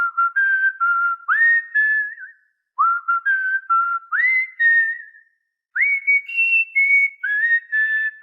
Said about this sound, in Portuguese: Ensine assobio. Parabéns para você para sua calopsita com esse vídeo.